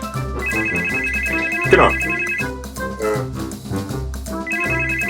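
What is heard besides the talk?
telephone ringing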